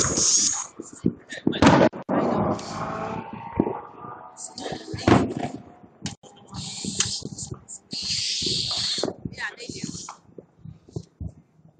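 Fireworks going off on July 4th, a string of loud bangs, crackles and hissing bursts at varying distances, mixed with people talking and calling out nearby.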